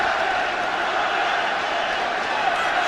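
Steady roar of a big football crowd at Old Trafford during a Manchester United versus Bayern Munich Champions League match, a dense continuous wash of massed voices held at even loudness throughout.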